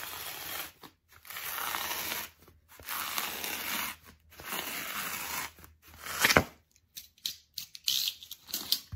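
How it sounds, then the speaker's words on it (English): A blade cuts all the way through a foam pool noodle, giving close, scratchy tearing and crunching strokes in a series of irregular bursts separated by brief pauses. "I'm going to go ahead and cut all the way through."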